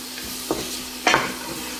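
Pork for ginataang monggo fries in a pan with a steady, soft sizzle, and two brief utensil scrapes or clinks stand out as the meat is stirred.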